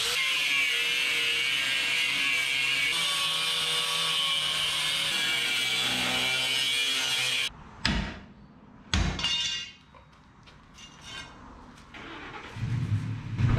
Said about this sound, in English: That was a lot of grinding.